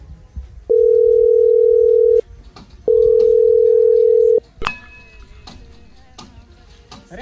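Two long ringback tones from an unanswered phone call sound loud and close with a short gap between them, followed by a sharp click and quiet room noise with faint voices.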